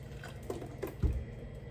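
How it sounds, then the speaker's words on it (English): Spring water poured into a container of sea moss, heard as a few quiet drips and splashes, ending in one brief, fuller pour near the end. "Add spring water."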